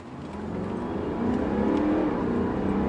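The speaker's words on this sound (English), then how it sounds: "it would be rude not to try 0 to 60 in a Bentley Bentayga, really" A Bentley Bentayga diesel SUV accelerates hard from a standstill toward 60 mph on open road, its engine roar building steadily and growing louder over a few seconds, heard from inside with no talking.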